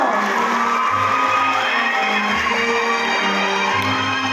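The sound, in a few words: audience applause and cheering for a taekwondo medalist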